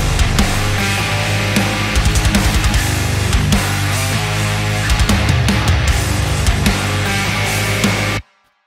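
Dense metal drum mix built from a GetGood Drums sample pack, with rapid kick patterns, cracking snare and bright cymbals playing loud and full within a band mix before stopping abruptly near the end.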